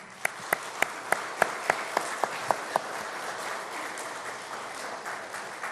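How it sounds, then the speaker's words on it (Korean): A church congregation in Seoul applauds during a Sunday service: about ten crisp, distinct claps ring out in the first seconds, then settle into a soft, scattered patter that fades out. "서로에게 격려의 박수를 함께 힘차게 쳐주었으면 좋겠습니다"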